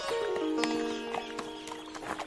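Horse hooves clip-clop in a steady rhythm on a bridge over a river, with a few sharp knocks heard at mid distance over a sustained musical tone in the background.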